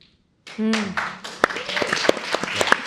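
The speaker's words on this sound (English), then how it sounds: "Applause for all four, please." An audience at an education summit claps for four speakers, scattered sharp claps building after a short spoken phrase.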